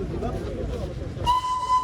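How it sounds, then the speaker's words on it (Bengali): A Darjeeling toy train passes below with a low rumble of rolling wagons, then a sharp steady whistle cuts in, heard from a distance with people talking nearby. "ওই ট্রেনটাই আবার নিচ দিয়ে যাচ্ছে"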